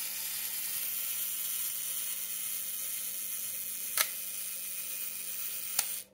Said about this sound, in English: as you can see, the shutter fires and it resets